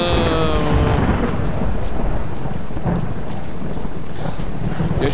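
Rain pours and thunder rolls in the Tomb Raider video game, with a loud crack and a long rumble up front over a steady hiss of heavy rainfall that carries on alone.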